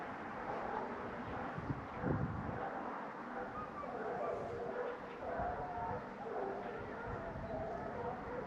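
Hunting dogs out on a wild boar hunt bark and yip at a distance, faint and intermittent under steady wind noise, with a few sharper barks standing out.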